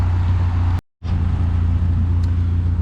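A 1991 Honda CRX driving around a yard, its engine a steady low rumble close by, briefly cut out for a moment before resuming at an even pace.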